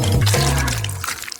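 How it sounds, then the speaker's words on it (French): Gelatin is poured into a bowl of hot water, giving a brief, close splashing and gurgling pour that fades out within about a second. "Je le verse dans un bol d'eau chaude."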